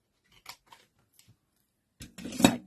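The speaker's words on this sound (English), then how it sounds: "use your scissors" Scissors snip through card in a few short, crisp cuts spaced apart, followed by a louder, longer burst of cutting and rustling near the end, close and clear with no talk.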